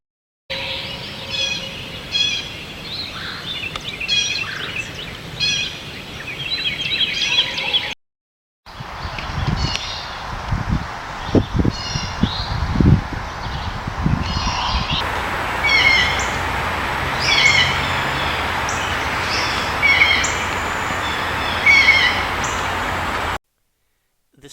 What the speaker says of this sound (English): Their call is a nasal yank that becomes increasingly agitated.